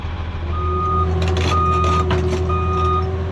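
A truck's reversing alarm beeps in a steady repeating pattern during loading, loud and near, over a constant low engine rumble.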